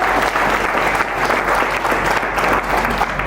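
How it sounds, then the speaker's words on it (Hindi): A loud, sustained round of applause from an audience at an Engineer's Day event at a government polytechnic in Patna; close, dense clapping continues throughout, with a faint crowd murmur underneath. "तो एक बार फिर से जोरदार तालियां हो जाए प्रभात सर के लिए"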